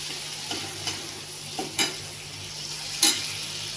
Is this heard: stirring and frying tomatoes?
yes